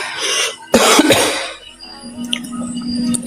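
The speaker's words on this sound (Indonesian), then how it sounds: "Batuk aku." One person coughs hard once, close and loud, followed by throat sounds and quieter room noise.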